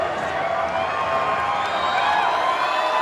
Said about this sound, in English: Both fighters hyping up this crowd. The crowd is coming to their feet.